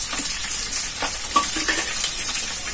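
Chili soybean chunks and tomatoes sizzle steadily in a hot oiled pan while being stirred, with continuous frying crackle and occasional scraping clinks of the spoon, no voices.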